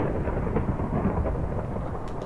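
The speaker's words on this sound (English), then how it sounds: "There's quite a thunderstorm happening over here" Thunderstorm in Minecraft, a dense low rumbling roll of thunder with rain-like crackle, steady and fairly loud for a couple of seconds with no voices.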